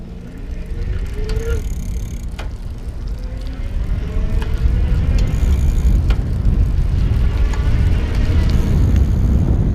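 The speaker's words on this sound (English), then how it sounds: "Take it all the way up to assist level 5 so you can hear the motor." An Electric Bike Outfitters Phantom kit e-bike motor runs at assist level 5 while riding, with a soft rising motor whine over steady wind rumble and road noise.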